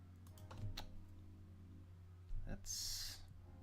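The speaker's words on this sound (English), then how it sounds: "I'm literally typing the title" Someone types on a computer keyboard at close range, quick irregular key clicks over a low background hum, with a louder clatter near the end.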